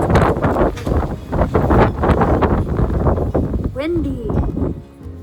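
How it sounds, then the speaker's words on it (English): Wind buffets a microphone outdoors, a rough, steady rumble that runs through the whole stretch while a person talks over it. "Windy."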